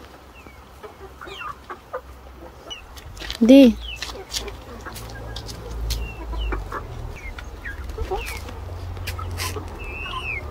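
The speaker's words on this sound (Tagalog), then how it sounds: "Hello mga manok." Chickens cluck and chatter nearby, with one loud squawk standing out, while a person speaks briefly over the flock.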